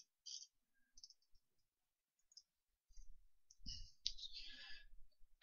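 A computer mouse gives a few short, dry clicks spaced apart in a quiet room, followed by some faint rustling and soft handling noise.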